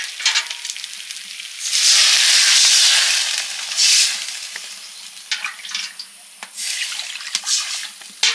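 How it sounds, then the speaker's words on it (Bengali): Water poured into a pot of potato curry (aloo dum) with fried whole garam masala paste, a loud rushing sizzle that swells and fades, followed by lighter bubbling and scattered stirring clicks, with no voices. "এবারে জল দিয়ে দেবো।"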